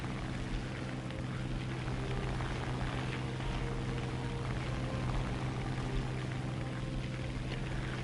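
Propeller plane engine in the War Thunder combat flight game, a steady, loud droning roar with constant low hum and broad rushing noise, unbroken throughout and without talk.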